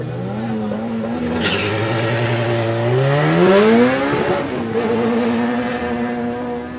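A drag racing car at qualifying at Vernamfield, Clarendon, its engine roaring loud and close, the pitch climbing steadily through a sustained pull with no voices over it.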